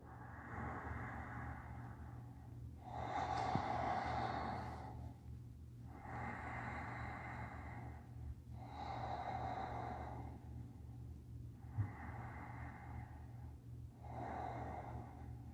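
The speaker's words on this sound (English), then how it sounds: "Take 3 breaths here." Slow, deep breathing during a yin yoga session, three full in-and-out breaths, each long inhale and exhale audible and close over a steady low hum, with no talking.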